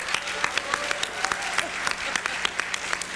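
Audience at a political affairs conference gives light applause, a sparse stream of distinct individual claps close by, with no voice on top.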